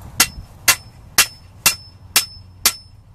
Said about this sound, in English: I have to use a hammer because the T-post driver is too wide